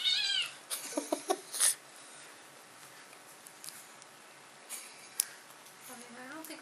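A Bengal cat demanding food, giving a few short meows and a drawn-out whiny cry near the start, then quieter patters and a brief meow near the end, close by with a person's voice at times.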